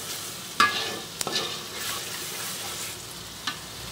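Spice masala of ground coriander being fried and stirred in a pan while cooking beef, a steady close sizzle with a few sharp scrapes and clinks of the spoon against the pan.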